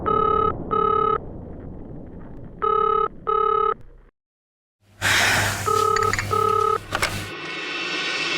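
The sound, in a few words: telephone ringing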